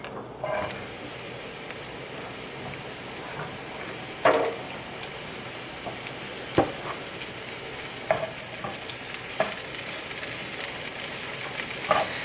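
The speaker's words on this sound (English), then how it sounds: "So I'm gonna heat up that oil." Mushrooms frying in a couple of tablespoons of oil in a pan for risotto, a steady low sizzle with occasional sharper crackles and stirring clicks, close and alone without talk.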